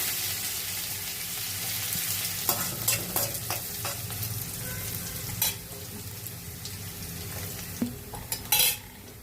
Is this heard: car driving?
no